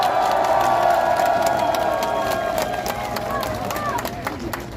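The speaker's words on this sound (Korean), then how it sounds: "여러분 박수 크게 한번 해주세요." A large crowd at a Korean political rally applauds and cheers loudly and continuously, with whoops and shouts mixed into the dense clapping.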